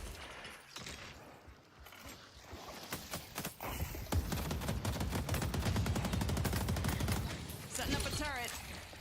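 Rapid turret gunfire in the Deadlock video game, dense bursts of shots that build into a loud, sustained barrage with a game voice line over the mix.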